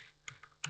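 Computer keyboard typing up close, a few quiet, separate key clicks tapped in a short, uneven burst.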